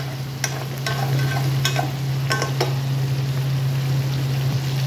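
Chicken adobo pieces fry in their own rendered oil while being stirred, giving a steady close sizzle with a few scraping stirs of the spoon against the pan and a constant low hum underneath.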